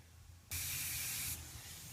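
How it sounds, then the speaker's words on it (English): Spray gun laying down Evercoat gelcoat on a 1966 Corvette body, a sudden loud steady hiss starting about midway and holding for nearly a second before cutting back to a softer background rush. "we're getting ready to spray some more product"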